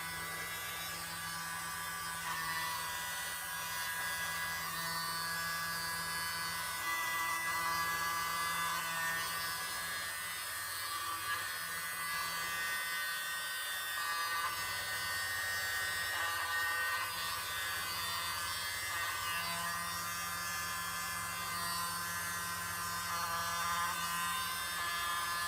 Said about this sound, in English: Here's my little blower.